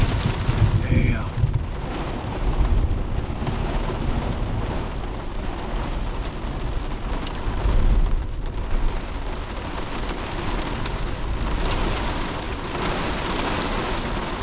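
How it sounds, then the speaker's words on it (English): Hail and rain pound on a truck during a severe thunderstorm, a dense loud drumming that goes on for the whole stretch, with swells of heavier rattling and a few sharper ticks from hailstones. "It almost sounds like hail again."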